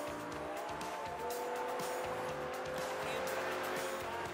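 A Lamborghini's engine drones steadily from the cockpit in the racing game Forza Horizon 2, with tire noise and shifting engine tones underneath and a person talking over it.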